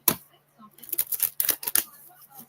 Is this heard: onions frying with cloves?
no